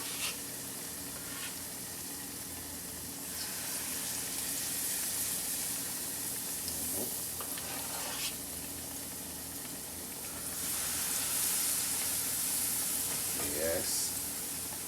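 Spoonfuls of banana fritter batter hitting hot oil, a loud continuous sizzle and bubbling that swells as more drops go in, with a few soft spoon scrapes and someone speaking now and then.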